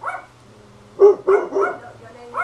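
A pet dog barks in a short burst of about three barks near the middle, fairly close and loud, with quieter whines or yips around them and no talk.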